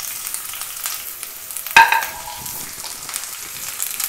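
Ginger, dried red chilies and finely chopped shallots frying in oil for Kerala moru curry, a soft steady sizzle with a sudden louder crackle as they hit the pan, then settling into a low fry.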